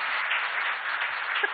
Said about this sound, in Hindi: जोरदार तालियां बजाइए सब लोग